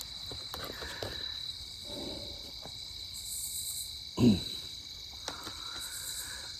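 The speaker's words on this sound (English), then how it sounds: "I just heard the first tree frog in the night." A tree frog calling at night: a steady, high-pitched trill that runs without pause through the whole stretch, with a brief soft thump partway through and no talking.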